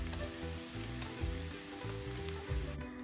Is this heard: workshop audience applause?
no